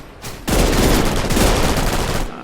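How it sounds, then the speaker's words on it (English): Rapid, loud automatic gunfire comes from above in a first-person shooter video game. It is one dense two-second burst of shots with no talking. "Shooting from top."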